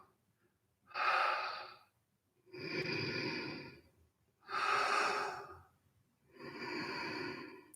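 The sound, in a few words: breathing in and out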